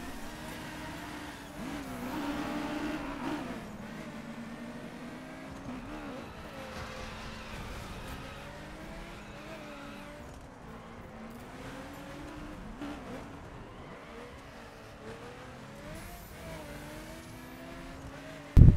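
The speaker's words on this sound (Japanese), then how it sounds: "お前な、煽らないで、うるさいよ、後ろの車。" Car engines racing in the video game The Crew Wild Run, a steady revving drone with rising and falling pitch as cars accelerate and shift.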